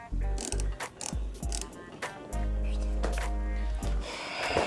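Screws being driven by hand while fitting Bushwacker fender flares on a Jeep Cherokee XJ, into holes drilled slightly undersize, heard as close ratcheting clicks and grinding turns in uneven bursts, with a brief breath or snort between them.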